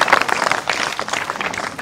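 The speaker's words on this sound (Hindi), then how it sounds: "एक बार जोरदार ताली बजाओ" A small group of people clap together indoors, uneven bursts of hand claps close by that are loud at first and then settle into a looser patter.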